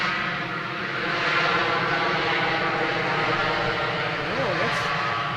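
An Alberta AHS aircraft at Edmonton International Airport produces a steady, fairly loud engine drone that holds evenly throughout with a slight swell, while someone talks nearby.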